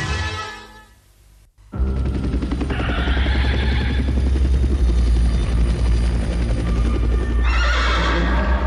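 A loud helicopter roars close by, its rotor thumping steadily, with a horse whinnying at the start and again near the end.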